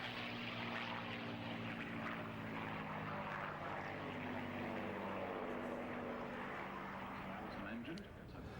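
Propeller warbirds at an air show, a P-51 Mustang with Merlin engine and an A-36, pass by, a continuous droning engine roar holding steady with a faint pitch shift near the end while a commentator talks over it.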